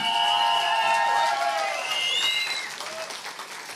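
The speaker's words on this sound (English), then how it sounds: "I think you need to give yourself a round of applause" A crowd at an independence march in Swansea applauds and cheers loudly, with whoops and shouting voices rising over sustained clapping that slowly tapers off.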